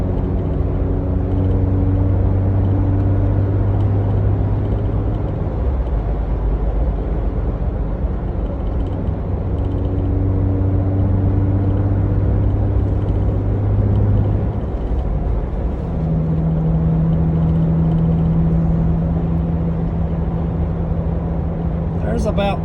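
A Jeep Wrangler JK running with no muffler, driving and accelerating: a loud, continuous raw engine drone whose pitch climbs and then drops and resettles as it shifts up through the gears.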